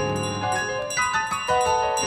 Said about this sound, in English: I'm alerting them to my presence with the bell.